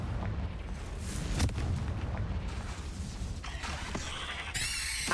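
Confringo fire spell blasts in Hogwarts Legacy, a fairly quiet muffled boom followed by rumbling, crackling impacts and bright whooshing magical flourishes toward the end, with no talking.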